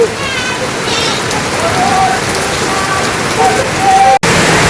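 Heavy rain pours steadily in a village during the rainy season, a dense, continuous hiss close by, with voices talking now and then over the downpour.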